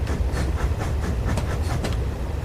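A steam locomotive on the Ffestiniog Railway in Train Simulator 2020 moving past Porthmadog station, with a steady rhythmic chugging and clatter at moderate volume and no talking.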